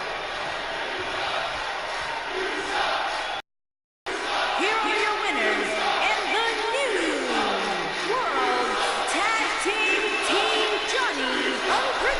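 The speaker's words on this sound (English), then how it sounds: "this crowd absolutely furious" Chicago wrestling crowd at a live pro wrestling event reacting angrily after a tag team title change, a loud sustained roar of boos, yells and whoops filling the hall, briefly cut out and then resuming.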